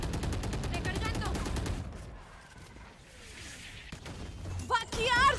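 Rapid bursts of gunfire in a shooting video game, a fast run of shots up front, then quieter effects and a final loud burst, with a voice speaking over parts of it.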